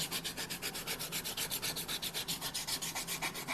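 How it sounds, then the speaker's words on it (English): A rasp files a wooden guitar body to shape the round-over at the cutaway. Fast, even back-and-forth strokes give a close, gritty rasping rhythm, roughly five or six strokes a second, with no speech. "I might even hit this with the rasp too to get the round over back in"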